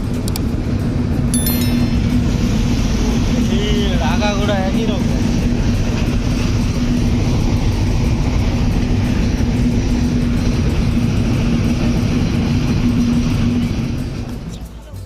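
The Simanta Express train in Bangladesh rumbles steadily and loudly through the night, with a constant low roar and rattling; a brief squeal and faint voices are buried in the noise.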